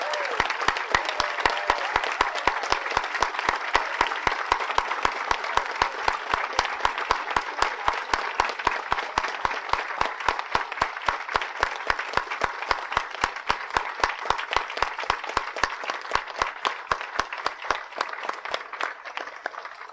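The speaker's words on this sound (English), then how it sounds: "Let's give a round of applause for our newest citizens." Sustained applause from the audience at a 2019 U.S. citizenship ceremony for newly sworn-in citizens, loud steady clapping with sharp individual claps standing out throughout.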